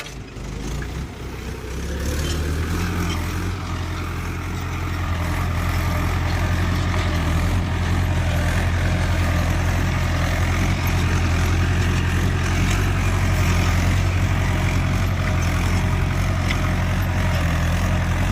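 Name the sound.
Mahindra 585 DI Sarpanch tractor running while ploughing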